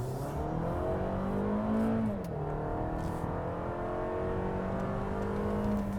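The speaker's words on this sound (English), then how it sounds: "Now let's get onto how the RAV4 Edge drives." A 2020 Toyota RAV4 Edge all-wheel-drive SUV driving, its engine note rising and shifting with steady road noise, heard from inside, loud and continuous with no talk.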